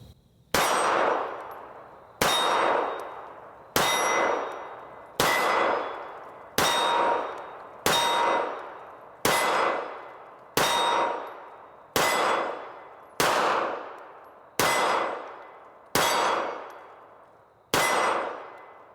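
Pistol rounds from a Hellcat .380 or Sig P365 .380 strike steel targets, giving about a dozen loud, ringing metallic clangs spaced evenly over time, each one decaying slowly, with no talking.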